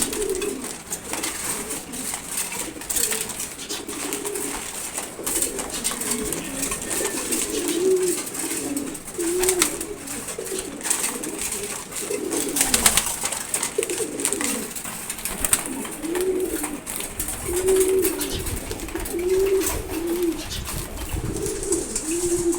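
Pigeons coo steadily during feeding, a near chorus of repeated low throaty calls rolling on throughout with no talk.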